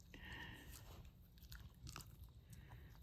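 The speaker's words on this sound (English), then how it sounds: "A little bit of dog crunching for the camera." A puppy crunches and gnaws on wood chips in an outdoor fall garden, giving quiet, close, irregular bites and crackles over faint background noise.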